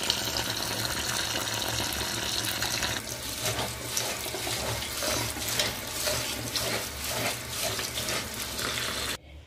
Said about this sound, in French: je vais vous montrer comment je rince mon riz